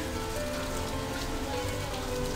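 A heavy downpour falls steadily near Kars, a dense, even roar of rain hammering surfaces close by, unbroken for the whole moment, with no voices.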